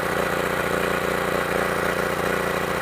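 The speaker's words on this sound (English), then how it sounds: "we also use our biogas to run clean, smoke-free engines to generate electricity" A 4K generator engine running on biogas drones loud and steady up close, a dense, even mechanical hum with a rapid firing pulse throughout and no talk.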